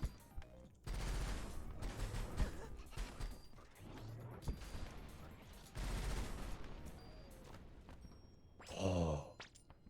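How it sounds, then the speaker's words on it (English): Sniper rifle fire in the video game Rusted Moss, heard as several sharp, loud bursts over a busy layer of game effects and music, with one last bright burst near the end. "My sniper goes off faster."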